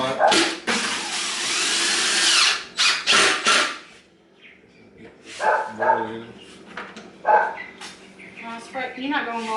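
A power drill drives screws into a board in loud close bursts, the motor whining for a couple of seconds at a time, with pauses where people talk and a dog barks.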